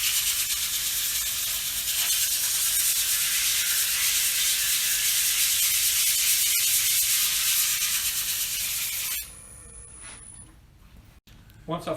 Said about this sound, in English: Once I finish sanding it, I'll go back, line up my grain